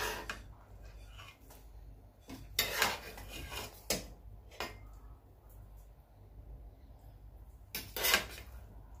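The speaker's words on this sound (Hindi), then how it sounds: "तो अभी मैं आपको इसे डिश आउट करके भी दिखाती हूँ।" Kachay gosht dum biryani rice being served from a large pot, with a few sharp metallic scrapes and clinks of a serving spoon against the pot spaced across quiet stretches of background hum.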